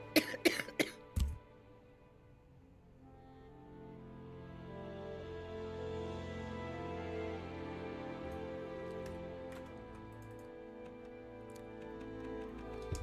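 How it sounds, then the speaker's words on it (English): A person gives a quick burst of several sharp, close coughs at the very start, then quiet game music and soft ambient tones play on alone. "I got distracted because I started coughing."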